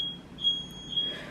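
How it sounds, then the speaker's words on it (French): A home smoke detector beeps with no fire, giving three shrill, sustained tones in a row, moderately loud over a quiet room with faint background noise. "mon détecteur de fumée là qui arrête pas de sonner pour rien"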